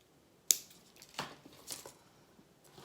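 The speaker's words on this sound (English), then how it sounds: "just use your scissors to give it a little trim" Scissors give a crisp snip to trim beading wire on a beaded Christmas wreath, then a few softer cuts and rustles follow at close range in a quiet room.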